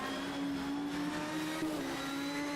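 Simca Rally 3 racing car engine heard on board during a European Hill Climb Championship run, a steady, loud, continuous drone holding nearly constant pitch with a brief shift in the middle.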